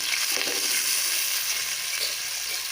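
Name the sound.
onions frying in hot oil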